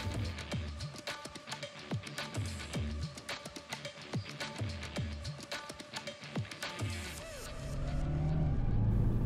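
A 2023 MINI Clubman on the road gives a steady, close engine drone with regular thumping pulses, probably tyres over road joints, before the sound swells into a smoother, louder rush near the end.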